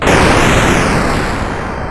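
Fireworks explode in a loud, dense burst that settles into a continuous crackling roar, close and filling the whole moment without any voices.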